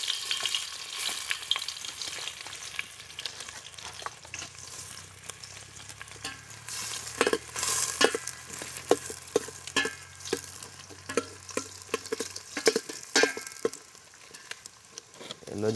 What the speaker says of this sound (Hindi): तो हम डालेंगे उसमें प्याज